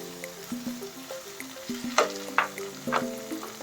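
Pre-fried bacon sizzling in a pan with kangkong and spaghetti, crackling bursts and sharp pops over a bubbling base, with some stirring clatter, fairly quiet and close.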